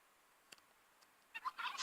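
A wild turkey in a survival video game gobbles in a short, quick burst of rattling calls after a couple of faint clicks, fairly faint and alone.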